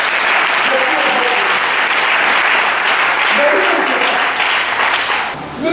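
A church congregation breaks into sustained, loud applause that fills the room without pause, with scattered voices and cheers rising through the clapping before it tapers off near the end.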